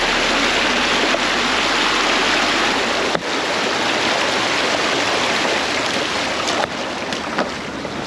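Water flows continuously through Scrubby Creek in Logan City, a close, loud broadband rush with some wind buffeting and a couple of brief knocks.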